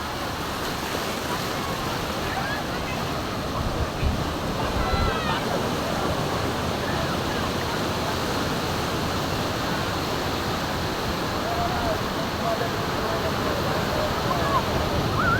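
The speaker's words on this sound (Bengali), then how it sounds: "সাগর দেখা যায় বেশ উত্তাল রয়েছে এবং ঢেউগুলো অনেক বড় বড় ঢেউ" Rough, high surf at Kuakata sea beach, Bangladesh, rolls in as a steady, dense roar of breaking water that stays loud and even throughout, with a voice faintly under the din.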